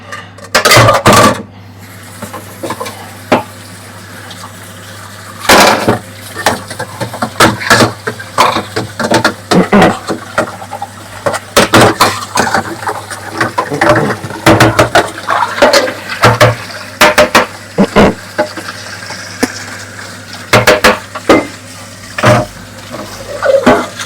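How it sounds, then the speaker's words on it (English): A cooking pot washed under a running tap in a home kitchen, with splashing water and repeated clanks and scrapes of metal in bursts, fairly close and loud, with no talk. "So I'm going to need this pot. So I want to wash it already."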